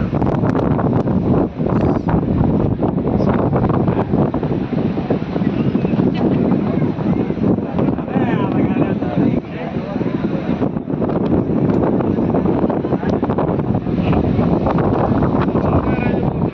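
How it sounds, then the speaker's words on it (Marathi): Strong sea wind at Vivekananda Rock Memorial, Kanyakumari, buffets the microphone in a loud, continuous roar, with a person talking under the gusts almost the whole time. "खूप जोरात हवा सुटलेली आहे"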